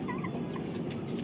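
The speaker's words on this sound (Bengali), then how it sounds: "এটা মেবি মোরগ হবে যত সম্ভব এটা, আর এগুলো সব মুরগি।" Asil chickens, hens with a rooster among them, cluck and murmur softly at a moderate distance in a brief, quiet burst of fowl calls over low background noise.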